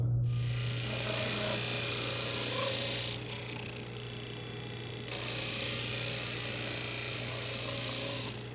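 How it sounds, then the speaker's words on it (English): A 12-inch disc sander shapes small wooden triangle pieces for a cutting board, its steady motor hum and grinding rasp continuous and close, dipping briefly in the middle before resuming. "I'm going to make them fit into the grid using this 12-inch disc sander."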